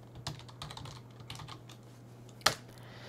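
Computer keyboard typing as a new device name is entered, a scattering of soft quick keystrokes over a low hum, ending in one sharper, louder key press.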